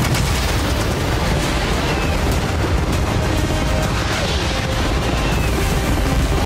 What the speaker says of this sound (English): I want you to launch cannons, fireworks, arrows, catapults, everything at the same time.